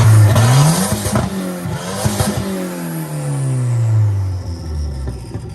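A Volvo 740 engine with a 3-inch downpipe revs up sharply, then winds down slowly, its exhaust note rising and falling loudly nearby with no talking.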